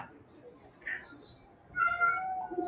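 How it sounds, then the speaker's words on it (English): Cat meowing in a room during a live football match reaction for Everton vs Man Utd, a short mew followed by a longer drawn-out meow, moderately loud under murmuring talk and background noise. "Can you hear the cat meowing?"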